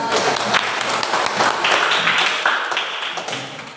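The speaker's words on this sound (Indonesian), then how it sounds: "Ya, kita tepuk tangan dulu." An audience gives a short burst of dense applause, loud and close, holding steady for a few seconds before thinning out at the end.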